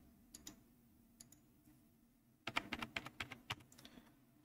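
Typing on a computer keyboard during a Windows 10 setup: a few scattered key taps at first, then a quick run of crisp clicks, faint and close in a quiet room.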